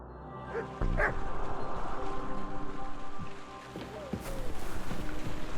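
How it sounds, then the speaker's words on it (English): A dog barking in the medieval role-playing game Kingdom Come: Deliverance 2, several sharp barks and yips, some whimpering, over a bed of rain and ambient noise. "Here, Mutt."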